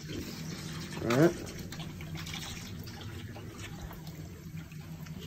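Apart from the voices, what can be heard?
water filling gas boiler through fast fill valve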